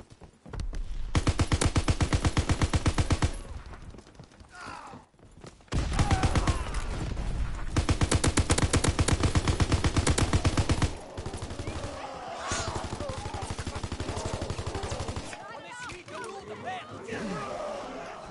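Sustained bursts of rapid automatic fire from a Tesla rifle in a multiplayer video game, loud and dense in two long stretches, then thinner game noise afterward.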